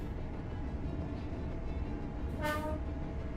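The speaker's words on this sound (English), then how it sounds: "Hope that horn honk helps somebody." In a train simulator video game, a brief train horn blast sounds partway through over a constant loud rumble of a moving train.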